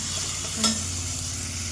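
Masoor dal roasting in a pan while being stirred, a low steady sizzle with one brief scrape of the spoon partway through, quiet and close.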